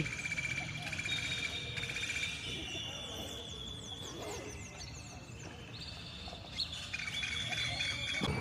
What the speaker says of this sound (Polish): i ptaki nie odpuszczają